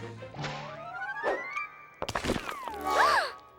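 A chisel knocks on a statue in the animated cartoon The Magic School Bus: a few sharp hollow thwacks and knocks stand out among whistling, sweeping cartoon sound effects.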